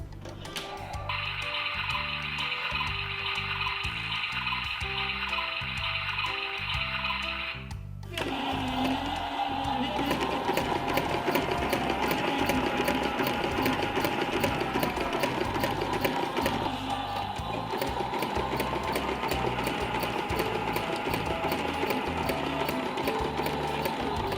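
A washing machine running in a laundry video game, a steady mechanical whir and rhythmic churning hum that shifts after a few seconds into a denser running drone, continuous and even, with no one talking.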